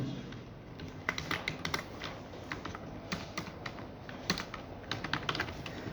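Python code being typed on a computer keyboard: a steady run of light, quick key clicks with brief pauses, close and clear, with no one talking.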